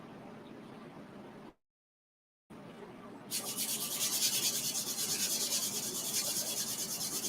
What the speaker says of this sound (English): I should probably sand it a little bit. So I'm going to sand it into my trash can.